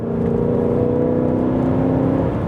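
A modified car engine holds a steady, loud rev with a droning, harmonic tone, heard close up and alone for a few seconds.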